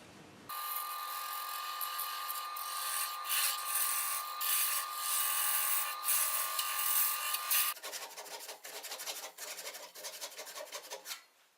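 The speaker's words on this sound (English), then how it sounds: "we'll just cut it off, finish cutting it off" A segmented wooden bowl, 96 layers with 121 wood strips per disc, being parted off a lathe: a steady, close rasping scrape over motor hum that turns choppier and more broken near the end, with no talk.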